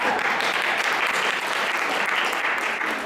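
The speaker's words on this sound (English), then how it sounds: "So, let us give a big round of applause." An audience at a talk gives a round of applause, brief dense clapping at steady loudness throughout.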